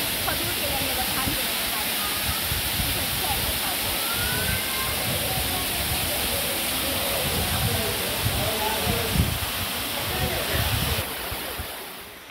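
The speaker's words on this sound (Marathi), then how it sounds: "सुंदर असं धबधबो न्हावणकोंड धबधबो" Nhavankond waterfall near Talebazar in lush green monsoon countryside, a steady broadband roar of falling water running continuously at moderate level, with faint voices mixed in now and then.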